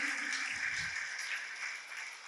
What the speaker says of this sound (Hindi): एक बार उनका जोरदार ताली बजा के स्वागत करें